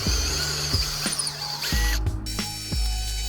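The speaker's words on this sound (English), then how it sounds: "right here I'm cutting 2 1/4 inch holes to line up with these 2 slots that I just cut." A tool bores 2 1/4 inch holes into a wooden jig, giving a series of short clicking, ratcheting bursts with mechanical whirring and a brief high whine between the knocks, close and moderately loud.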